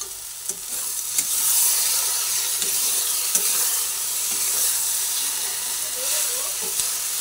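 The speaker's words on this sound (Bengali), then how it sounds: "আবার ভালোভাবে নাড়াচাড়া করে নিচ্ছি" Onion and poppy seed mixture for peyaj posto stirred in a hot pan, making a loud, even hiss of frying with occasional sharp scrapes and knocks of the spatula.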